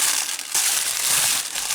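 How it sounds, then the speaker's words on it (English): Tissue paper wrapped around the parts of an O9 scale model locomotive kit crinkles and rustles up close, a steady busy crackling that runs the whole time with a short pause near the middle and no voices. "Sorry about the tissue paper noise."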